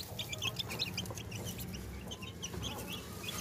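Chickens cluck softly and repeatedly while pecking at scattered feed, a lively cluster of short calls from several birds close by, fairly quiet overall.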